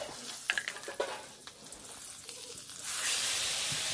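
Bay leaf and cinnamon hit hot oil in a pan on a gas stove, with a few quick clattering stirs and spatters first, then a sudden steady loud sizzle and hiss.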